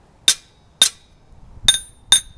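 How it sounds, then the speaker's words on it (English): Four sharp, bright pings of a hammer striking sheet metal backed by a dolly in auto body repair, evenly spaced strikes ringing briefly, close and clear with no talk. "when you're hammer on dolly, you'll know that you're doing that whenever you hear this ping"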